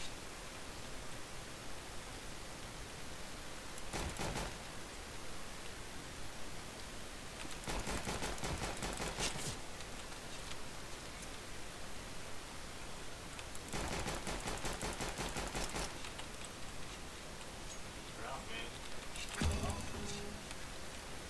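Video game gunfire during a live stream: several rapid bursts of automatic fire spaced across the stretch over a steady background hiss, with no one talking.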